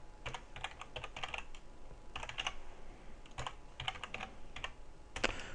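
Clusters of quick key clicks on a computer keyboard, typed in bursts with short pauses between, close and moderately quiet against a soft room hiss.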